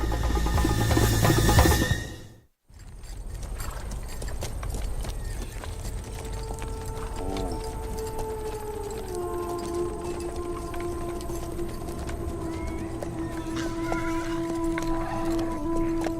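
Horse hooves clatter and fade after a sudden cut as horses gallop away, followed by a long steady rumble with rising and falling tonal wails like distant whinnies.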